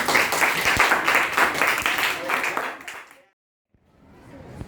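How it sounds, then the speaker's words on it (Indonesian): A classroom of students claps for two classmates, a dense, lively burst that carries for about three seconds, then cuts off abruptly to silence before faint room noise returns. "Tepuk tangan untuk Jilian dan Anwar"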